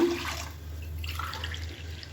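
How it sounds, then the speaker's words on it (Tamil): Extra water poured into a cooking pot while making tomato rice, a steady splashing stream over a low kitchen hum, continuous and fairly close for the whole stretch. "இன்னும் கொஞ்சம் எக்ஸ்ட்ரா தண்ணி சேர்த்துக்கலாம்."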